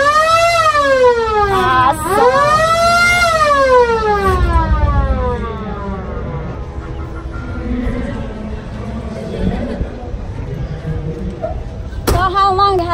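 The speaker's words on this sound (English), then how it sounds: "I can blow the siren and the light for you if you want" A siren on a vintage GM rear-engine, air-cooled police car wails loudly up and down in repeated sweeping cycles, then winds down, with a sharp burst near the end.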